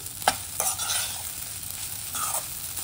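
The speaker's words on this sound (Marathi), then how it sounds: "एकदा आपण हलवून घेऊया खिचडी" Sabudana khichdi frying in a pan while being stirred, a close, steady sizzle with several distinct scraping strokes of the spoon, no talking.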